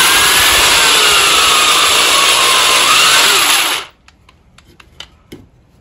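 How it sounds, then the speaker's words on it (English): A power drill bores dowel holes into sanded wood, whirring loudly and steadily for several seconds before winding down, followed by a few light clicks and knocks. "now I've got them all sanded down and ready to be drilled into for the wooden dowels"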